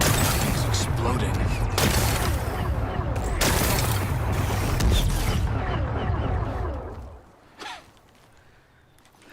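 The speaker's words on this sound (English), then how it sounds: "Gotta blast away some rocks, so we can expose the power cell. It's working! It's exploding." Rocks being blasted apart by explosions in Horizon Forbidden West, a run of loud booming blasts and crumbling rubble that fades out after several seconds, followed by a quieter tail and a short burst.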